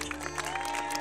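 Spectators at an outdoor fire show at the Spandau Citadel clap in a brief burst of applause, with a steady musical drone tone sustained underneath.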